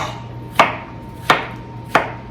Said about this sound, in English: I'm gonna cut them right down the middle so that when I'm done, they're just like all bite-sized, 1/4 inch